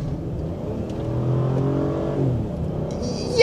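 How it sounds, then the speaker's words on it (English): Land Rover LR3 V6 engine at full throttle, a steady droning roar that climbs in pitch as the SUV accelerates, heard from inside the cabin with no talk over it. "Here, I'll go full throttle."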